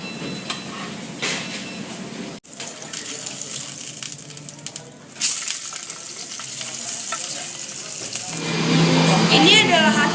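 Salmon frying in oil in a Teflon pan over a flame, a steady close sizzle with stirring and clattering sounds, getting louder toward the end.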